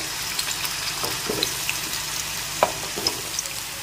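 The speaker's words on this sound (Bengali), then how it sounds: "আলুটাকে একটু ভালো করে ভেজে নিতে হবে।" Potato pieces frying with chilli in a pan, a soft continuous sizzle broken by a few light stirring knocks and scrapes, close up and without talk.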